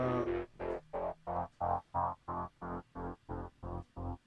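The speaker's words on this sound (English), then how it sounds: "So I am going to turn on my chopped up sampler" A choppy synth sound pulses in an even, stuttering rhythm, about a dozen short clipped bursts of the same tone repeating back to back.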